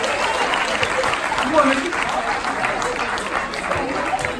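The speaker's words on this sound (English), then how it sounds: "Let's give her a round of applause" An audience claps steadily for a college student invited up at a hip-hop science battle event, a dense sustained patter of applause lasting throughout, with a voice calling out over it.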